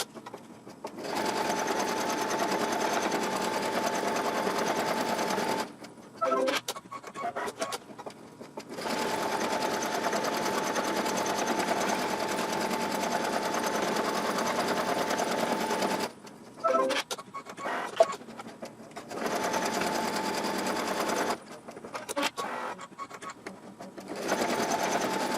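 A sewing machine stitches through layered ribbon with gold thread, running in long steady buzzing stretches broken by brief pauses and short start-stop bursts.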